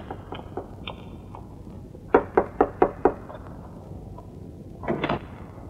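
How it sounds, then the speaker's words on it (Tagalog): Four sharp knocks on a door in a steady quick rhythm, clear and fairly close, followed by a softer thud, with a quiet room hum underneath and no talking. "Tignan mo na tuloy kung sino yung kumakatok."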